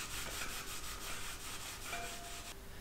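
Old latex sealant being scrubbed off a bicycle rim with GT85 spray lubricant, a steady close rasping rub in repeated strokes, alone, ending abruptly.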